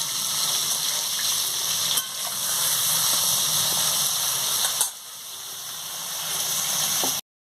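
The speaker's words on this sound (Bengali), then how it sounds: "গরম হয়ে গেছে, আমি মাছটা দিয়ে দিচ্ছি। মাছটা দিয়ে ভালো করে ভেজে নিচ্ছি।" Prawns sizzle in hot oil in a pan, a loud, steady crackling hiss that briefly dips twice before resuming at full strength.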